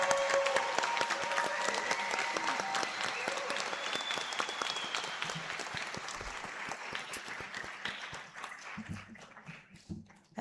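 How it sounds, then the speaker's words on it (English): A large audience at a nursing White Coat Ceremony applauds the incoming class with dense, loud clapping that gradually thins and fades toward the end. "Can we get another round of applause for our incoming class?"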